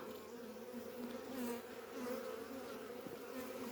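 A dense, steady hum of many honeybees buzzing close by at a hive weakened by poisoning, swelling slightly in places, with no voices.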